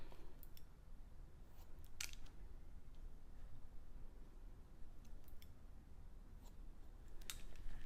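Scissors snip through hair during a men's long haircut, with a few brief, sharp cuts scattered over a steady background hiss and no talking.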